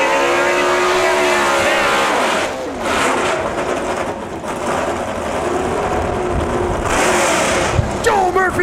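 Loud drag-racing engine noise at a Lapeer dragway event, with a Roush Yates-powered small block Ford in the lineup, roaring steadily throughout under crowd and announcer talk, with a rising whine near the end.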